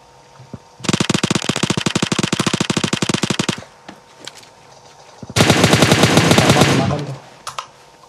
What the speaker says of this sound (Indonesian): Pada nembak sembarang atau apa coba?